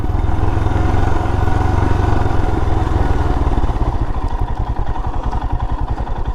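A motorcycle engine rumbles close by at Tapola near Mahabaleshwar, Maharashtra, steady at first, then settling into a slower, chugging pulse toward the end.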